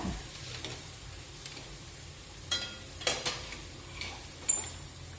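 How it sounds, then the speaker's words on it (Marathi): Coriander leaves being sautéed in a hard-coated kadai, with a quiet sizzle and occasional spatula scrapes and taps against the pan. "आता छान परतून घेऊया आपण या कोथिंबिरीला"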